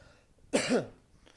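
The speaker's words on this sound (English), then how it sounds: "that cough has been lingering" A single short cough, close and fairly loud, against a quiet background.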